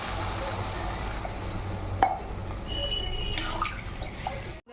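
Water is poured into a pan of curry made with gram-flour fritters and potatoes, a soft, steady trickle and splash with a brief clatter midway, fairly quiet and close.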